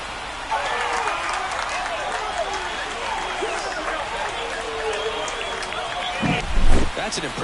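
A simulated stadium crowd in the baseball video game MLB The Show 24 cheers and roars steadily through a Blue Jays–Tigers game. Commentators talk over the noise, and the roar swells briefly near the end.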